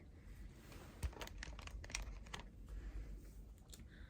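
Scissors cutting straight across a plus-size graphic t-shirt held on a knee, giving faint, soft crunching snips of fabric that repeat in an uneven rhythm.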